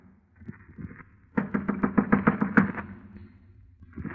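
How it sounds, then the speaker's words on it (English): Knocking on a door as a radio drama sound effect, a quick run of about eight sharp raps, close and distinct, following faint background sounds. "and knocked on the door"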